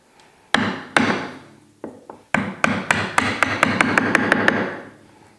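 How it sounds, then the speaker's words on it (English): Hammer blows on a chisel clean up the ends of a steel part, a few sharp separate strikes followed by a quick, steady run of about a dozen ringing metallic hits, close and loud. "we'll get the ends cleaned up with a chisel and move into the next step"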